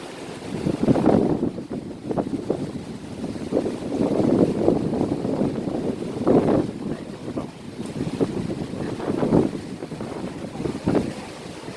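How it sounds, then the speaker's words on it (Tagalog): Strong gusting wind roars against the microphone in uneven surges at South Horizons, Hong Kong, low rumbling blasts rising and falling, with no clear talk. "Kaya dito naman sobrang hangin."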